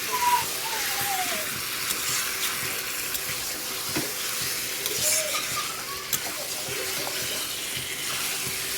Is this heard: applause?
no